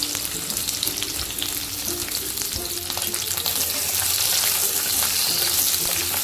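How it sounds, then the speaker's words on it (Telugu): Cut okra pieces fry in hot oil in a pan over medium flame, giving a steady, close sizzle with occasional stirring scrapes and no talking. "బాగా వేడెక్కిన తర్వాత మీడియం ఫ్లేమ్లో పెట్టేసుకొని మనం కట్ చేసుకున్న బెండకాయ ముక్కలు యాడ్ చేసుకుందాం."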